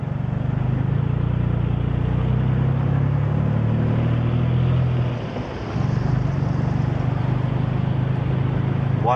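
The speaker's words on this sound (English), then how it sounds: "One car there went past me because he didn't like how I drive." Steady engine drone and road rumble inside a car driving through city traffic, with a brief dip midway as another car passes alongside, continuous and fairly loud throughout.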